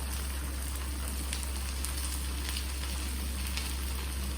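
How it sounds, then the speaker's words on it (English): Small baby potato chips deep frying in hot oil over a low-medium flame, giving a steady, even sizzle and crackle that stays constant and close throughout. "And deep fry it."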